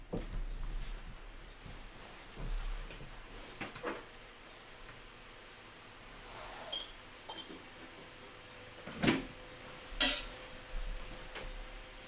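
Crickets kept in a tank chirp in rapid repeated bursts, with a few louder clicks and knocks near the end.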